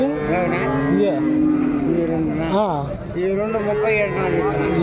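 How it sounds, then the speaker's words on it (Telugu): Jersey calves lowing at a busy cattle market in Punganur, several moos rising over steady crowd chatter and nearby talking voices. "ఇక్కడ కూడా జెర్సీ దూడలు అయితే ఉన్నాయి"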